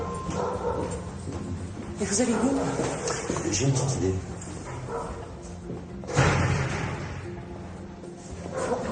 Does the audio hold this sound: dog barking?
yes